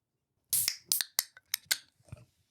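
Cans of vodka soda with lime cracked open: a sharp metallic snap and hiss, then a few quick follow-up clicks and pops close up, with no talking.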